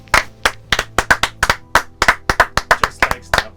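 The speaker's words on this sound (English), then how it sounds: "And can we just have a little round of applause?" A small group claps in a room, about fifteen distinct, fairly close claps in a brisk, uneven rhythm, with no talking over them.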